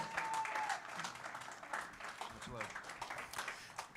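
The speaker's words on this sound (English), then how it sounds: "Round of applause for Daniel" Applause from a convention audience for a trophy winner, a steady wash of clapping that runs throughout, with a voice talking over it.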